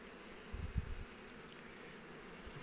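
Honeybees hum in a newly created hive holding two queens kept apart by a queen excluder grid, a faint, steady buzz with a few soft bumps and no talking.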